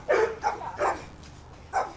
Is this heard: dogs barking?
yes